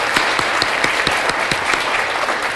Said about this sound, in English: I'd like to give them a round of applause as well.